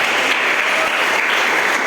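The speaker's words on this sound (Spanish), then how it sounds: "Denle una ofrenda de palmas al Señor Jesús." A church congregation applauds in a sustained, dense roar of clapping that fills the room evenly, with no voices standing out.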